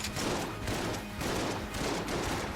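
Dense, continuous gunfire in the Enter the Gungeon video game, a shotgun that also fires bullets blasting in rapid overlapping bursts at steady high loudness with no talk.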